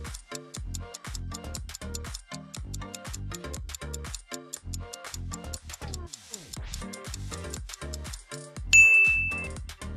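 A Roblox entity jump scare from a horror game: a dense rhythmic run of ringing chime-like tones and ticks, building to a loud, sharp high-pitched sting near the end, with no talk.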